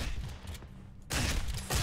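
Gunfire in the horror video game Condemned: Criminal Origins: a burst of loud, rough shots, a quieter gap, then a longer sustained stretch of heavy, rapid firing to the end.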